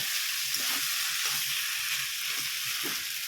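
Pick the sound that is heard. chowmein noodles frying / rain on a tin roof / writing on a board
chowmein noodles frying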